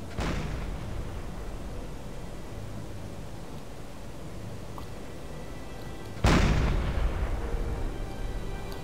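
A submarine deck gun firing at a ship in Silent Hunter 4, two heavy booming shots several seconds apart over a constant background hiss, the second louder and closer.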